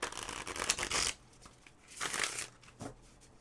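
Crisp, papery riffling of tarot cards close by, a long fluttering burst followed by a quieter pause and two shorter rustling flurries.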